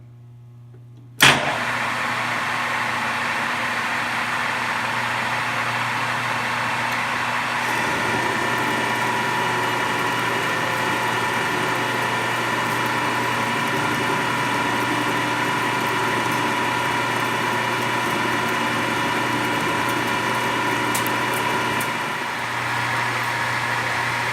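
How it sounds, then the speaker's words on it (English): Metal lathe taking a heavy quarter-inch cut on the cross slide while turning stock down to diameter: a sharp start, then a sustained steady machine hum with cutting noise, loud and close, running unbroken for over twenty seconds with no voices. "we got to turn it down to the diameter we need. So we'll go ahead and take a nice healthy cut on the first pass"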